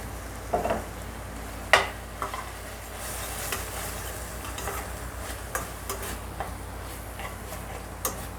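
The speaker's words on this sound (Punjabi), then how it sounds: "ਇਹਨੂੰ ਆਪਾਂ ਦਵਾ ਦਵਾ ਇਸ ਤਰ੍ਹਾਂ ਰਲਾ ਲਾਂਗੇ ਨਾਲ ਮਿਕਸ ਕਰ ਲਾਂਗੇ ਮਸਾਲੇ ਦੇ" A ladle stirs curd and spices into stuffed tinda in a pan, making irregular scraping clicks and knocks over a soft, steady sizzle.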